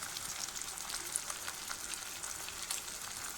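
Chopped chilli, garlic, ginger and tomato frying in a pan for an egg dish, a steady, fairly quiet crackling sizzle with small spitting pops throughout and no talk.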